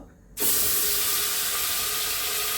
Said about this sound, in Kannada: ತುಪ್ಪ ಬಿಸಿ ಆದಮೇಲೆ ನೋಡಿ ಗ್ರೈಂಡ್ ಮಾಡಿಟ್ಟ ಮಸಾಲವನ್ನು ಕೂಡ ಇದಕ್ಕೆ ಹಾಕಬೇಕು.